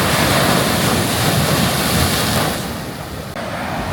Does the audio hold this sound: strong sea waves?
yes